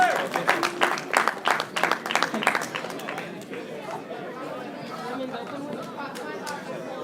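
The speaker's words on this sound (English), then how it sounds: "Let's give him a round of applause." A crowd applauds at an award presentation during a martial arts finals event, a short burst of clapping that fades within a few seconds into murmuring chatter and room noise.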